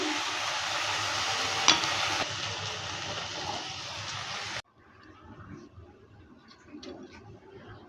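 Snake gourd with poppy seed paste fries and sizzles loudly in a pan while being stirred, a dense steady hiss that cuts out abruptly partway, leaving faint scattered clinks and quiet room noise.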